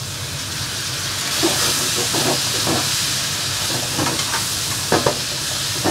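Shaoxing wine hits a hot wok while cooking XO sauce lobster, giving a steady loud sizzle and hiss with a few scraping stir strokes on top.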